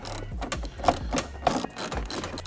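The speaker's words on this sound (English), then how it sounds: "you can see I have my ratchet nice and low because it makes it a lot easier to twist the ratchet" A ratchet works loose front end bolts on a G80 BMW M3 and G82 M4, giving close rapid clicking bursts in a quick back-and-forth rhythm over a few seconds, with no talk.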